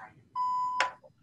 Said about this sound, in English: That noise is very satisfying, the buzzer noise.